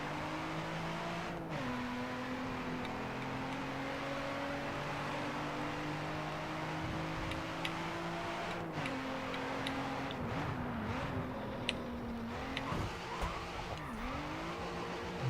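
Race cars in a video game race rev their engines with steady, sliding pitch sweeps, and tyres screech briefly now and then, all fairly loud and continuous with no talking.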